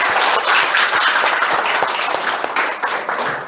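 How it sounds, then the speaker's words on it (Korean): An audience at a lecture-hall talk on architecture exam strategy breaks into sustained applause, dense close clapping that holds steady throughout and tapers slightly at the end. "1시간 동안 열강을 해주신 우리 조현 대표님께 큰 박수 다시 한번 부탁드립니다"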